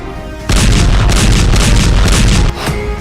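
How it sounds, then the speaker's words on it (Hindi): A heavy, loud explosion erupts suddenly and rumbles for about two seconds in a dense roar before dropping away to lingering noise. "धमाके का पहला वीडियो"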